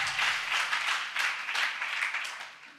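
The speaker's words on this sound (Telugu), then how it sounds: "గట్టి గల్లలో చెప్పండి, చప్పట్లు కొట్టండి గట్టిగా" Audience applause at a Telugu talk, a dense steady wash of many hands clapping loudly throughout without a pause.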